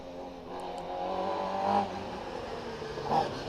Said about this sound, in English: The Maguire Mini circulating very quickly